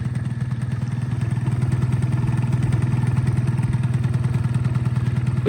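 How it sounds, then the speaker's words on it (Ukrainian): A Honda Dio AF-35 two-stroke scooter engine idles alone, a steady close, even putter with a fast regular pulse and no voices. "Оцініть, будь ласка, хто розбирається роботу двигунчика,"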